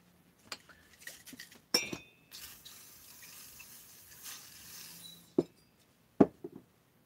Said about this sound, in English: Okay, so wrist pin goes in.